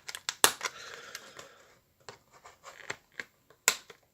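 Scissors snip through plastic toy packaging holding Star Wars Rey and Princess Leia figures, a few sharp close cuts and crinkles spaced apart with quiet pauses between.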